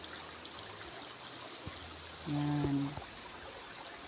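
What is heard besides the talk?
flowing stream on a farm lot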